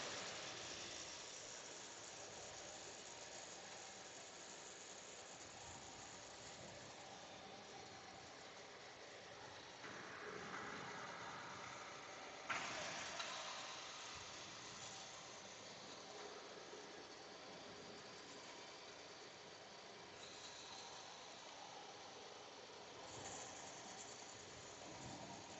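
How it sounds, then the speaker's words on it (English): Several vehicles overtake a car on a road near Ville Platte, Louisiana, their passing roar rising in a steady broadband rush with louder swells partway through, heard close from inside the car with no talk. "a pack of vehicles has caught up with me and is overtaking me now"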